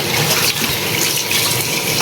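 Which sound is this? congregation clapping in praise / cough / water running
water running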